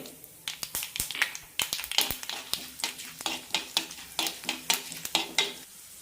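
Mustard seeds and urad dal frying in a tablespoon of hot coconut oil, a soft sizzle broken by frequent sharp pops and crackles in an irregular, busy rhythm, close and fairly quiet.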